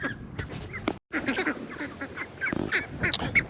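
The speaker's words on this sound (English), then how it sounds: "Ducks are just really sweet, and I mean, listen to them." Ducks quacking and honking at an evening feeding, a lively chorus of close, overlapping calls with a brief pause near the start.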